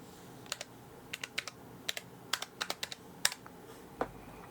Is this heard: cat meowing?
no